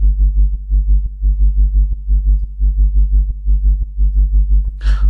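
A deep, pulsing drum and bass sub-bass line with parallel saturation throbs in a steady rhythm with gritty harmonics on top, loud and alone, ending with a brief noisy burst.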